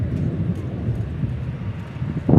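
A Boeing 777 airliner taking off at DFW Airport, a steady deep distant rumble with wind buffeting the microphone that swells louder at the end, with no talking.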